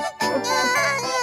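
An animated baby in a children's song cries in a short, high, wavering wail. A performer's voice imitates the cry, loud and close.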